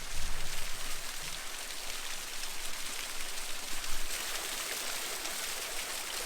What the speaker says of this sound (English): It's a little dam, the waterfall coming off of it.